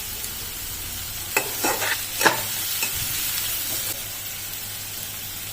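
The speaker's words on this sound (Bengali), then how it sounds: "পেঁয়াজটিকে লাল লাল করে ভেজে নেব" Onions fry with salt in a pan with a soft, steady sizzle, broken by a few sharp scrapes and clatters of stirring near the middle. No one talks.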